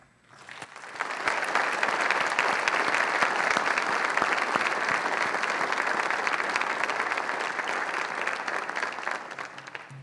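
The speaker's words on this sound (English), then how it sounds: "give them a round of applause" A crowd at a rural development center's anniversary event applauds for about ten seconds, dense steady clapping that swells quickly and holds evenly before fading at the end.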